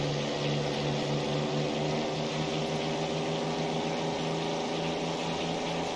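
A Spitfire Mk1A propeller engine roars steadily during takeoff in Microsoft Flight Simulator, a constant loud drone with strong humming tones and no talking.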